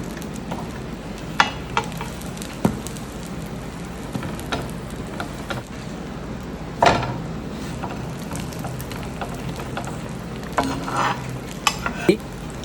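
Street-style bread omelette with cheese frying in a pan, giving a continuous sizzle with occasional spatula scrapes and clicks as it is pressed and flipped, no talking.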